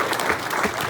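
Applause fills a crowded football banquet room: brief, dense clapping from many hands, steady and fairly loud throughout.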